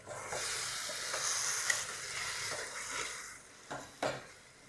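Prawns and gongura frying in oil in a pan, with a soft, steady sizzle and a few clinks and scrapes of a spoon stirring near the end.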